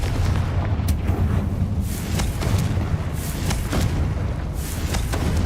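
A Confringo blasting spell from Hogwarts Legacy strikes with a few rumbling, booming thuds spread over the clip, set against a dense, loud game backdrop of constant low rumble.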